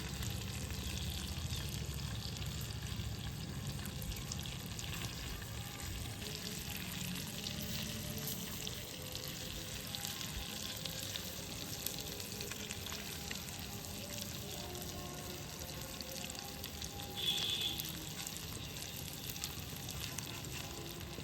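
Paneer pieces dipped in butter sizzle steadily across a hot tawa, a continuous close frying hiss with no voices over it.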